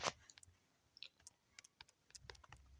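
Keys tapped on a computer keyboard while entering a search for logo templates, a quiet run of scattered clicks with uneven spacing and no talking.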